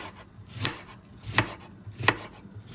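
A knife chops food on a wooden cutting board while dinner is cooked for Iftar, borscht and plov, giving three distinct, evenly spaced sharp chops close by with quiet pauses between them.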